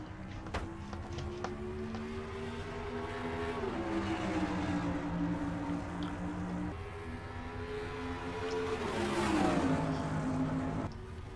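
A pack of race cars takes the green flag at Dover, engines droning together in a steady, layered roar with pitch dipping and climbing through gear changes, loud and sustained.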